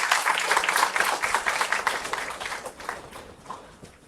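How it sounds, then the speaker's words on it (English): A workshop audience in a lecture hall claps for a speaker, a lively burst of applause with distinct individual claps that gradually thins and fades toward the end. "So have a huge round of applause."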